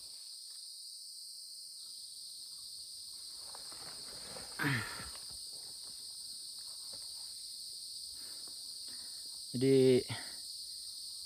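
Crickets chirr steadily on Mount Raung in East Java, heard on the Kalibaru climbing route as a continuous high-pitched drone that runs through the whole stretch, with a brief spoken word and a short voiced sound near the end.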